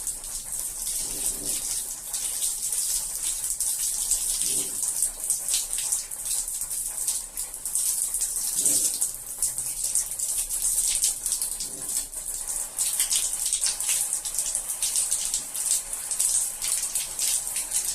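Tap water runs steadily during handwashing at a sink, a constant bright hiss with faint soft knocks now and then, no talk.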